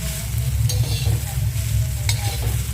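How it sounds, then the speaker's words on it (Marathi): Corn kernels roasting in a pan while being stirred, giving a steady close sizzle with a low rumble and scattered scraping clicks, with no talk. "किती सुंदर भाजून झालेले आहेत मक्याचे कणसे म्हणजे मक्याच्या कणसाच्या बिया"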